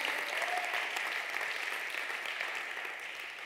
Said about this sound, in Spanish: dar un aplauso fuerte al rey